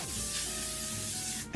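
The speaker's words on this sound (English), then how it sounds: "And then we're going to go in with the L'Oreal 3-Second Setting Mist right on top." A sustained hissing spray of L'Oreal 3-Second Setting Mist onto a face, lasting over a second, steady and close, ending abruptly.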